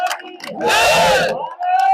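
A crowd at a cow protection campaign rally bursts into a loud roar of cheering and clapping mixed with shouted voices, rising suddenly and fading after about a second, with a lone voice before and after.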